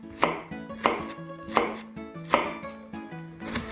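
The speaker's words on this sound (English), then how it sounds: "With a quick chop like this." A knife chops ingredients for macaroni salad on a board: five sharp, evenly spaced chops close up, with a steady hum underneath and no talking.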